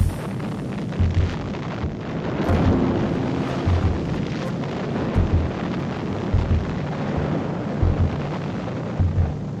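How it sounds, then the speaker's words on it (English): Huge storage tank fires burning after an explosion at a fuel tank farm, a loud, steady roaring rumble with repeated low booming pulses throughout, no voices. "Flames from the explosion could be seen from as far as 8 miles away."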